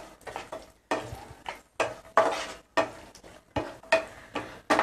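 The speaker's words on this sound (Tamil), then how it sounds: "திராட்சை வந்து பார்த்திங்கன்னா கொஞ்சம் நல்லா புஃப்னு வரும் ஃப்ரை பண்ணிகிட்டே இருக்கும் போதே" Raisins fry and puff in hot fat in a pan for milk payasam, heard as rhythmic bursts of sizzling and stirring scrapes repeating roughly every half second, close up and without voices.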